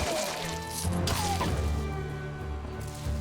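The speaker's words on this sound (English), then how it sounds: "I hit that dog so hard he's bleeding" A dog struck hard in melee combat in the game Stoneshard: a dense, continuous run of heavy thwacking and crunching impacts layered over game music, with no clear gaps between hits.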